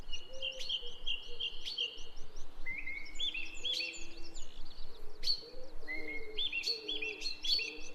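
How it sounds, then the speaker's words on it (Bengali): Several birds call and chirp close by in a repeated run of bright tweets and whistled notes, with softer lower cooing underneath and no talking. "আমার একদম কাছে পাখি"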